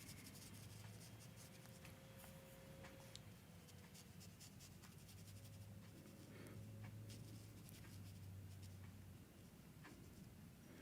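A pen sketches in black ink on white paper, giving faint, continuous scratching and rubbing strokes with small ticks, very quiet and close against a low background hum.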